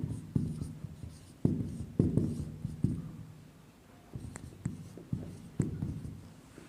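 Chalk or marker writing on a board during a maths lesson, a series of short scratchy strokes in uneven bursts with pauses between them, heard close up with no talking.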